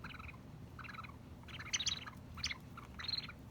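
A small toy bird from the Snoopy Boutique chirps in several short bursts of bright tweets against a steady low background hum, with no talking.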